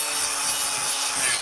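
A steady, harsh abrasive whir of a power sander grinding against the sole of a foot, continuous and close, with no voices.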